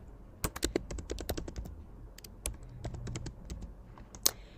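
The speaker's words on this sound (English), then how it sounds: "I clicked on T on my keyboard and I typed get started" Crisp, close clicks of someone typing on a computer keyboard come in quick bursts separated by short pauses, with a sharper single tap near the end over a quiet background.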